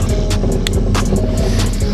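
A jet ski engine runs on a trailer during cleaning, a loud steady mechanical hum with a constant low rumble, close by, with faint intermittent hissy bursts over it.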